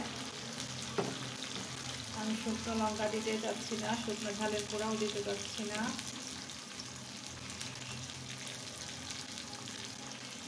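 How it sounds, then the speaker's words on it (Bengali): Chopped green chili fries in a pan before going into dal with spinach, making a loud, continuous sizzle with stirring clatter while a voice talks over it. "এখন খুব সুন্দর করে এটা ফ্রাই করে নেব"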